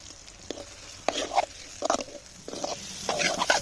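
Eggs fry in a pan with turmeric, chili and salt: a faint sizzle broken by short bursts of spatula scraping and stirring, close and moderately loud.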